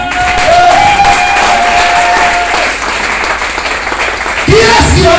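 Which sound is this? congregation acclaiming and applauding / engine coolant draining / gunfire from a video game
congregation acclaiming and applauding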